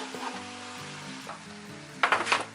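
Drained, rinsed corn is stirred into a hot, sizzling pan, with soft scraping and frying crackle, then a louder burst of sizzling and stirring toward the end.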